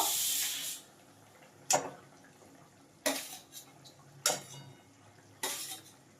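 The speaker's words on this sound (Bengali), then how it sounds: "এবার আমি ভেজে রাখা মাছগুলো দিয়ে দেব।" Fried pieces of vola fish go into a simmering curry broth in a pan, bringing a burst of hissing sizzle followed by several sharp clinks and scrapes of a utensil against the pan, close and separated by brief lulls.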